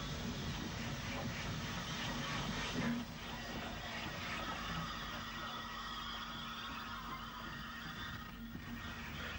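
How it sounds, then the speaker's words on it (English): An S-Class 440 steam locomotive hauls a Derry to Belfast train into Strabane station in Ulster, a steady, faint rumble and rolling rattle of wheels and carriages that carries on throughout without speech. "an S-Class 440 arrives at Strabane with the 10:30 train from Derry to Belfast."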